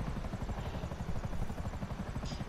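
A helicopter in a war video game chops with a fast, steady rotor thud, fairly quiet and continuous throughout, with no talking.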